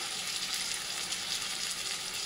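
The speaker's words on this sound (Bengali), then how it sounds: "মশলাটাকে ভালো করে কষিয়ে নিয়ে" Spice paste frying hard with fish in a pan, a steady dense sizzle close up with no talk.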